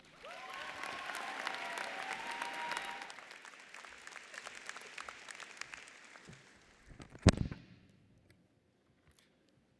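Commencement audience at a university business school ceremony applauds a student speaker, a rolling wave of clapping with faint cheers that swells, gradually fades away, and ends with a sharp nearby knock before near silence.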